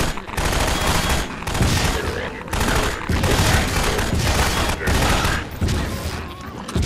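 SMG fire in the video game Half-Life 2 Episode 2, heard as loud, rapid bursts of automatic shots repeating one after another with short pauses between them.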